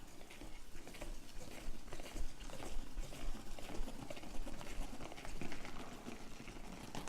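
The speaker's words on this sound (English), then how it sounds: "spinning this device gets all the water out of it from when I washed the romaine lettuce earlier" A salad spinner whirs with washed romaine lettuce inside, a steady rattling, pattering spin with pulsing surges, close and moderately quiet.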